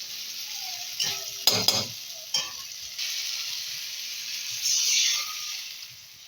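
Ginger and chili-powder spice paste frying in a pan, hissing and sizzling as water is poured in, with a few stirring clatters and soft bursts of bubbling close by.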